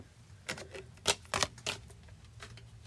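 A short burst of tarot cards being shuffled by hand, a few crisp riffling flicks clustered in the middle, close and clear with no talking.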